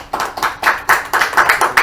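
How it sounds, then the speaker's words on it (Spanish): A small group claps for a child named Laurita in rhythmic unison, with about eight evenly spaced, close and moderately loud claps. "Le damos también un aplauso a Laurita."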